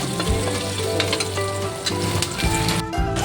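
Garlic sizzles in a pan of hot oil, a close, steady crackle with occasional soft stirring knocks.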